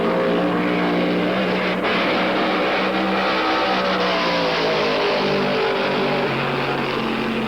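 Late-1960s NASCAR stock cars roar past at the Southern 500, a dense, continuous wall of engine noise with shifting pitch as several cars pass at speed, loud and without any voices.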